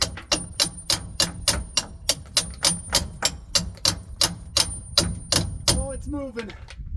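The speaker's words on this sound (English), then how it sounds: "So I actually got 2 hammers, so we're gonna try to get it open using that" Rapid, steady hammer blows of metal on metal strike a stuck irrigation pivot roller meter to force it open, close and loud, with a few brief vocal sounds near the end.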